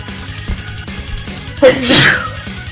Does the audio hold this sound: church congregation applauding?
no